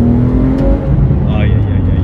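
Porsche 911 GT3 Clubsport with 476 horsepower, its rear-mounted engine revving loudly from inside the cabin, a rising snarl lasting about two seconds, with voices talking over it.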